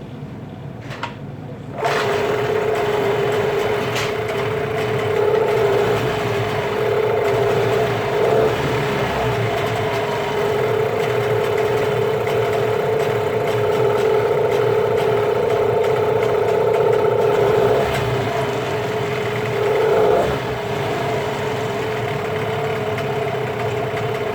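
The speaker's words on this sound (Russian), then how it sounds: "мотор запустился, но он работает очень плохо" A small outboard boat motor, a Chinese engine fitted with a Yamaha ignition module, starts with a jolt and keeps running loud and steady, with occasional stumbles and uneven sputters in its drone.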